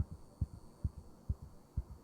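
A heartbeat sound effect in the Roblox video game: quiet, rapid, evenly spaced double thumps repeating about twice a second over a low hum.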